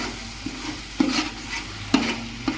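Coconut paste, ginger paste and curry leaves frying in a pan, a gentle sizzle punctuated by four sharp spoon clinks and scrapes against the pan at irregular intervals.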